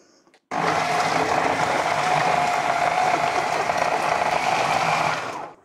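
A blender whizzes a banana and chocolate ice cream mix in one steady, loud burst lasting about five seconds, starting abruptly and winding down at the end, with no talking.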